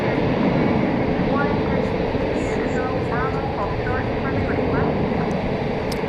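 An airliner, flight 1051 from San Francisco, rumbles at DFW Airport at night with a steady, broad engine roar, while someone talks over it.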